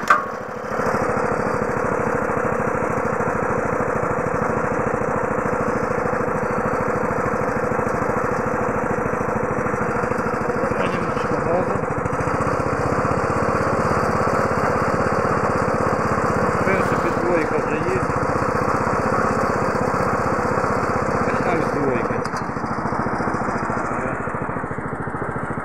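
A small motorized sprayer engine with seven nozzles runs steadily and fairly loudly throughout, a continuous mid-pitched buzzing drone with slight fluctuations.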